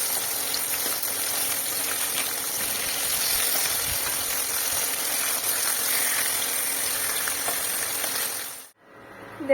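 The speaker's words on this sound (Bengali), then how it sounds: "আমি তেল বসিয়েছি, মাছটা ভাজবো" Fish fries in hot oil with a steady, close, dense sizzle that holds evenly for about nine seconds before cutting off abruptly.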